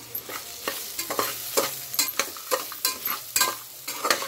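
Okra fry seasoned with chili powder and salt is stirred in a sizzling pan, giving a quick, even run of close scraping strokes about four times a second over a steady frying hiss, with no voices.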